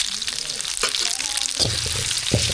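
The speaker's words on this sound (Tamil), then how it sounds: "சாம்பார் தாளிக்கிறதுக்கு என்ன நல்லா சூடாயிடுச்சு கடுகு சேர்த்துக்கலாம் ஜீரகம் சேர்த்துக்கலாம்" Mustard seeds and cumin crackle and sizzle in hot oil for a sambar tempering, a steady close frying hiss with sharper popping spatters breaking through in the second half.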